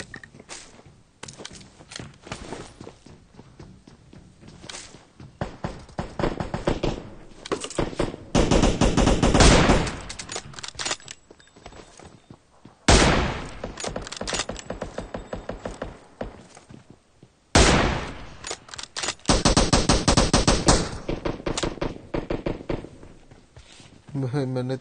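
An M24 rifle and automatic gunfire ring out in a shooting video game, with loud bursts of rapid shots separated by quieter stretches of footsteps and movement while players talk excitedly over the action.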